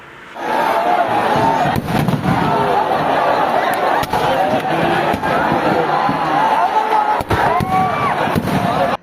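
A fireworks display before a sevens football match in Areekode, Kerala, with sharp bangs and cracks over a loud, continuous roaring stadium crowd.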